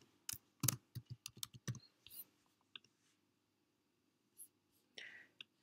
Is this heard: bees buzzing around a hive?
no